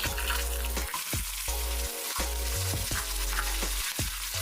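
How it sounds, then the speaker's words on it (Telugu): Tempering spices crackling and frying in hot oil for Andhra buttermilk curry, a loud, close, continuous sizzle broken by repeated spoon stirs and sharp pops. "తాలింపు కోసం మనం ముందుగా ఇప్పుడు పోపు దినుసులు వేసుకుందామండి ఆయిల్లో"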